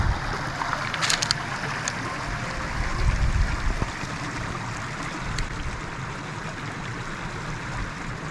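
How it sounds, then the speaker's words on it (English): Vehicle fording a creek on a Cape York outback track, a steady rush and slosh of water against a low engine hum, with a few sharp splashes early on and no talk. "Michelle doing a river crossing, well, a creek crossing."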